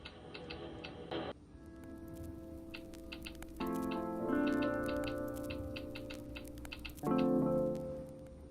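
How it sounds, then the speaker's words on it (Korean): Typewriter keystroke clicks from the default ringtone on a Galaxy Z Flip Thom Browne edition, an antique-style theme, tapping in irregular bursts over a sustained melodic chime tune that swells in loudness partway through. "타이핑한 소리가 타자기 소리가 들립니다"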